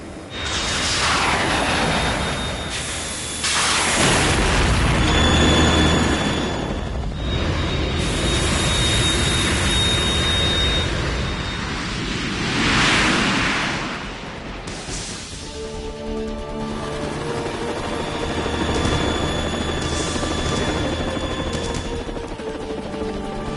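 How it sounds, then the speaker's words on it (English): A Harrier jet fighter in the Metal Gear Solid 2 video game roars through a noisy battle, loud jet engine sweeps rising and falling amid explosions and rumbling, with no voices. "You have to shoot the Harrier down."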